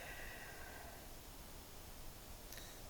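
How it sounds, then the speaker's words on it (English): Steady white noise plays in a Ganzfeld experiment, a flat, even hiss filling the whole stretch at low level with no voices. "The white noise is starting to almost sound more like water"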